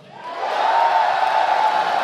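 An audience at BlizzCon 2017, the esports event hosting the Heroes of the Global Championship finals, cheers and whoops in a big venue, swelling quickly into a sustained roar from a large crowd that stays loud to the end.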